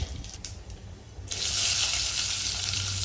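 Sliced onion drops into hot oil and ghee for biryani and starts frying, a quieter sizzle jumping to a loud, steady hiss close by.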